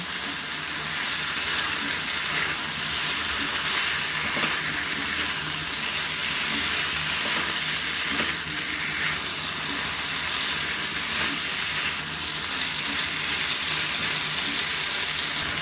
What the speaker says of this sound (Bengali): এর মধ্যে এবার আমি ফুলকপিটাও দিয়ে দেব। ফুলকপিটা দিয়েও কষিয়ে নেব।